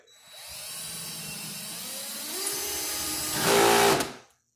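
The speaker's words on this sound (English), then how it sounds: "we're going to take the hole saw and we're going to put it right on our wood" A power drill with a hole saw cutting wood whirs steadily at moderate pitch, then rises into a louder, harsher grinding burst near the end before cutting off.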